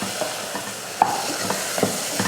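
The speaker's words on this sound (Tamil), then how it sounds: "கருவாடு, கத்திரிக்காய், தக்காளி 3 நல்லா வதங்கி வரட்டும்." Dried fish, brinjal and tomatoes sautéing in a pan, with a soft continuous sizzle broken by a few light clinks and scrapes of a spoon stirring, close and fairly quiet with no talking.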